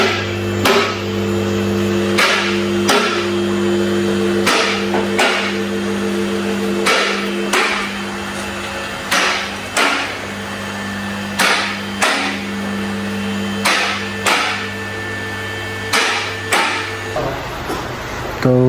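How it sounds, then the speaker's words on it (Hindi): A mechanic at a garage works on a car's wheels with tools, striking out a series of sharp metallic knocks at fairly regular intervals over a constant electrical hum. "अभी इसके व्हील खोलने लगे हैं।"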